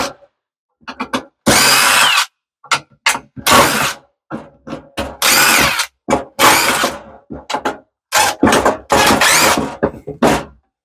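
Power drill backing screws out of wood in a custom car seat pan, with repeated loud close bursts of whirring, some short and some longer, separated by brief pauses and small clicks.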